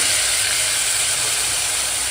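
Minced onion, two onions' worth, dropped into hot oil with reddened cumin while cooking dum aloo, giving a loud, steady, dense sizzle and hiss that holds unbroken throughout.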